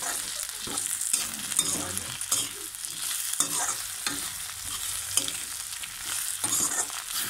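Pork and potatoes frying in a pan with spices and dried ouu tenga slices, a spoon stirring through with repeated scraping strokes over a steady, bright sizzle; no talking.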